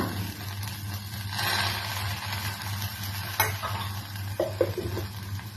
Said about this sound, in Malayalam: കുറച്ച് എണ്ണ കൂടെ ഒഴിച്ചു കൊടുക്കുക.